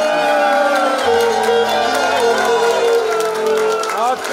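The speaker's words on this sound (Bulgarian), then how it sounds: "Още веднъж аплодисменти за младото семейство" Wedding guests at a village celebration applaud and cheer loudly for the young couple, a dense crowd roar with whoops and shouting and music underneath, sustained for a few seconds.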